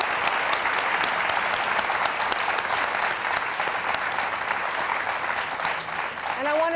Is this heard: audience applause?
yes